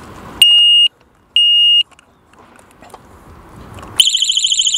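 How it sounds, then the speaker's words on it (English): An Oxford BOSS alarm disc lock gives two steady electronic beeps, then after a short pause the loud, warbling siren starts. "first you'll hear a beep. It will warn people around that it's an alarmed lock, and then a second or two later the alarm will go off"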